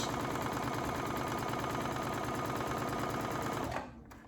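A Brother Essence VM5200 sewing machine stitches with regular sewing thread, a fast, even mechanical chatter running steadily and close for nearly four seconds before stopping abruptly.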